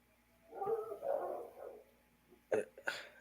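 A dog howls and yelps somewhere in the background, a drawn-out wavering cry followed by two short sharp yips, faint and distant in an otherwise quiet space.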